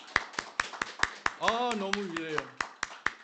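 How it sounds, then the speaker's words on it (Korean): A church congregation claps in steady, evenly spaced unison beats, a fairly loud, regular rhythm of sharp claps, while a voice speaks briefly over the middle. "우리 한번 여성분들을 위해서 박수 쳐주겠습니다"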